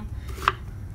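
A single knife chop cuts through squash on a board, one crisp close tap standing out over a quiet low background hum.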